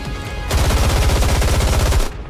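Rapid automatic gunfire from the video game Goddess of Victory: Nikke erupts in a loud, dense burst of fast, evenly spaced shots lasting about one and a half seconds, then cuts off.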